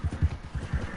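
A horse gallops in Red Dead Redemption 2, its hooves landing in quick paired thumps in a steady, rolling rhythm, close and fairly loud, with no voices.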